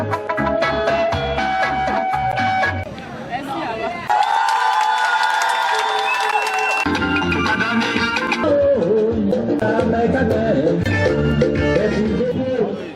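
A crowd at a political rally in Gagnoa cheers and applauds loudly for a singer, with whoops and shouts under continuous music and amplified talk throughout.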